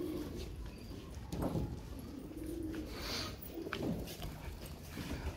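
Pigeon chicks cooing in a loft, soft low coos repeating every second or so close by, with a faint scuffle of movement underneath.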